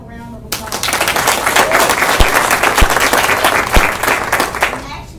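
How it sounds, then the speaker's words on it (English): Meeting audience applauding the listings team at a business meeting: loud, dense clapping from a crowd that starts abruptly and holds steady for several seconds, with a few voices mixed in. "So give them a round of applause."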